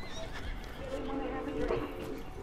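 A horse whinnies in the Western video game Red Dead, a drawn-out neigh rising and wavering near the middle, with hoof clops and voices talking over it.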